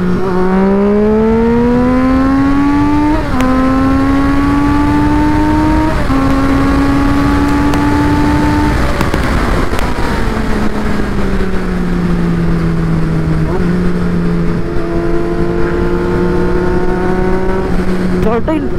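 A Triumph Street Triple motorcycle engine revs up through the gears toward redline on a morning ride, a loud, steady, rising engine whine with shifts, continuing throughout with wind noise and no talk.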